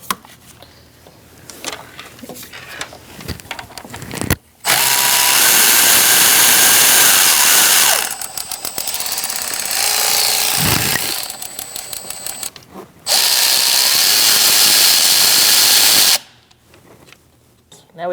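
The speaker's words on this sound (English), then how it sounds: "We're going to take this bolt out of this bracket" A 10mm socket on a power tool backs a bracket bolt out of a 2016-2019 Chevrolet Cruze 1.4L engine bay, with two loud sustained whirring bursts separated by a brief pause, between quieter handling noises.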